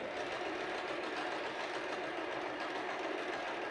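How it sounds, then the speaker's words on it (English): An Empisal Expression 889 sewing machine stitching through fabric, a steady fast mechanical whir at moderate volume running continuously without pause. "Put your foot down and start sewing."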